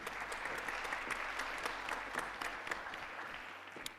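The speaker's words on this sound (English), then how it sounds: "A round of applause." Audience applause fills a conference hall at an audio industry summit, dense continuous clapping at fairly steady volume that thins slightly toward the end.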